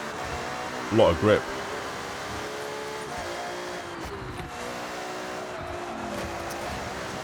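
A Ferrari F80 engine whines at high revs in the Forza Horizon racing game, a sustained tonal drone with shifting pitch running under someone talking throughout.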